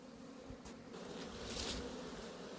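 Honeybees buzz steadily around a row of eight-frame hives with mesh bottoms on their orientation flight, a dense, continuous swarm drone that swells slightly louder midway, heard alone without talk.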